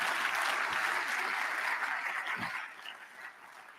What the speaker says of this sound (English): A round of applause for John Pising, please.